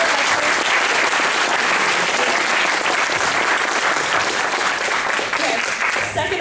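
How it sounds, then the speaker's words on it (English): Sustained round of applause from an audience in a university lecture hall, steady dense clapping filling the whole stretch at close range with no pause. "can we have a round of applause for Nadir?"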